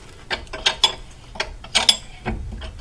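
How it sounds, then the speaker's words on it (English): Wrenches tighten the brake bolts on a Subaru Forester, a few sharp close metallic clicks and ratchet-like ticks in short separate pairs with brief quiet gaps. "double wrench it to tighten them right up"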